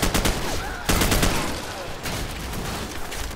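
Gunfire in the video game Call of Duty 4, dense bursts of shots in quick succession with rattling automatic fire, loud and close, continuing over several seconds without pause.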